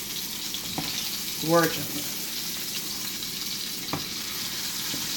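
Atlantic salmon sizzles steadily in a pan of butter and olive oil, a close, continuous hiss, while a voice speaks briefly over it.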